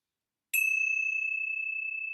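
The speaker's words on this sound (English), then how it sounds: "I'm going to close our time together with the ringing of the bells." A single bell struck at a meditation gathering rings out with a bright metallic strike, then a pure, steady tone sustains and slowly fades, alone after a moment of silence.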